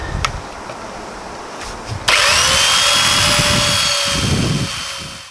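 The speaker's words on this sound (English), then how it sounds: "I can probably drill it from here" After a couple of seconds of quiet background noise, a power drill whines into action and runs loudly and steadily, its pitch dipping slightly as it bites.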